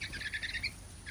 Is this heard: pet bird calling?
yes